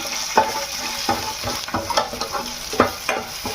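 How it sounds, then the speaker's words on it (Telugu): Dried red chillies and chana dal sizzle in hot oil for a tomato chutney, a steady crackling hiss broken by several sharp stirring knocks and scrapes in the pan. "రెండు ఎండుమిర్చి వేసుకుందాం"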